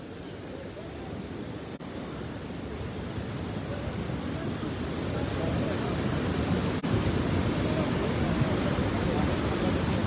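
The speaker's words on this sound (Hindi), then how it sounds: "थोड़ी देर पहले पानी का बहाव कम था, अभी काफ़ी ज़्यादा हुआ है पानी" The swollen Swat River rushing in a steady, loud roar of broadband water noise that builds slightly over time, with no voices heard above it.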